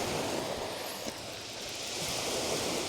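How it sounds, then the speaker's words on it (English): Steady, broad rushing wind buffeting the microphone while stingray fishing on the West Sussex coast, continuous and rough throughout, with no voices. "Sorry if there's a lot of wind noise that's really picked up."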